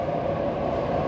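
A Perth A-series electric train passes a station platform, a loud, steady broadband rumble and roar sustained throughout with no talking.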